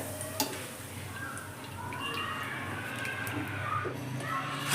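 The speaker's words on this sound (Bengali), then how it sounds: "পাঁপড়গুলো আমি তেলে দিয়ে দিচ্ছি এক এক করে" Papads fry in white cooking oil, going in one at a time, with a steady close sizzle and soft bubbling hiss that builds slightly over a few seconds. No voice is heard.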